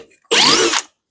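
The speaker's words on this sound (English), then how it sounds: "First you're gonna drill it." A power drill bores into a wooden post for mounting a stirrup in carpentry work, giving one loud, close half-second whirring burst before cutting off.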